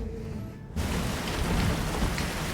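Heavy rain pouring in a steady, dense wash that bursts in loudly after a quieter opening moment, with low rumbling beneath hinting at a storm, and nobody talking.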